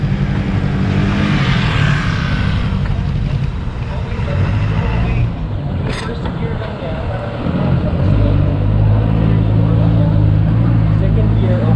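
Morbidelli T502X motorcycle engine running steadily while riding in second gear, a continuous low drone with wind rush, rising slightly toward the end, with a voice speaking over it.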